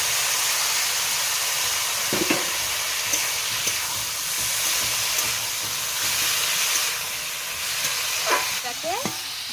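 Ground masala paste frying in a pan gives a continuous broad sizzling hiss, broken now and then by faint scrapes of stirring.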